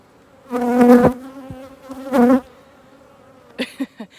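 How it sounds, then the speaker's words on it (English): Two loud buzzing bursts from bees passing close by, each about a second long, followed by a few short, fainter buzzes and quiet in between. "we're gonna get quite a few more bees up in here"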